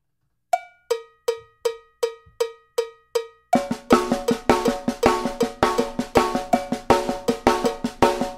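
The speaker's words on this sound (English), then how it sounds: "Here it is on the snare drum only." Snare drum struck alone in a slow, evenly spaced pattern of sharp hits, then a full drum kit joins with denser, louder strokes and steady accents.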